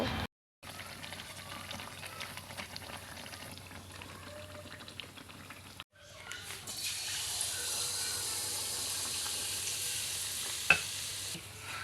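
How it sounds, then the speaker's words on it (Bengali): Tel pitha oil cakes frying in oil, a soft continuous sizzle and bubbling close by, briefly cut off and then resuming louder with a small clink near the end; no talk. "আমি এখন তেল পিঠা রান্না করতেছি দেখুন"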